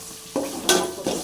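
Chopped onions, green chillies and curry leaves hit hot oil in a pan for a lake-fish curry, giving three quick, close bursts of sizzling and stirring in about a second.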